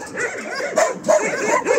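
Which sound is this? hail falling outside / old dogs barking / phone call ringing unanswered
old dogs barking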